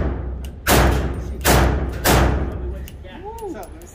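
Three heavy, muffled thuds from a suppressed Q Honey Badger rifle fired at a range, evenly spaced about a second apart, each loud and close with a short decay, followed by brief faint background sounds.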